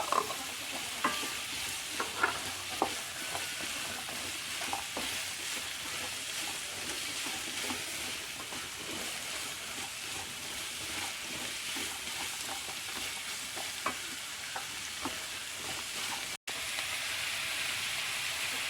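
Green chilies frying in oil for a Kerala-style vegetable kurma, a continuous gentle sizzle with scattered light clicks of stirring, steady throughout with a brief dropout near the end and no talking.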